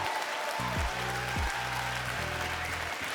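Audience applause at the Prix Joséphine 2024 award ceremony as the 18-20 prize is awarded; steady crowd clapping fills the room over a few low, rumbling tonal sweeps.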